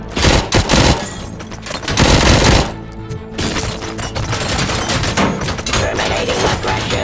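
Gunfire volleys in the RoboCop 3 game: dense, loud, overlapping bursts of shots and booms that fill the whole stretch, with a brief lull near the three-second mark and no voices.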